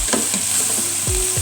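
Lamb chops fry in a pan with a loud, close, steady sizzle, punctuated by brief stirring and scraping sounds.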